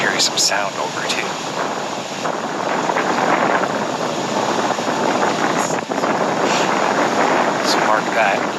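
Outdoor wind gusts against a microphone, a loud, continuous roar that surges and eases for the whole stretch.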